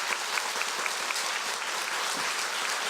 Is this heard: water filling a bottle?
no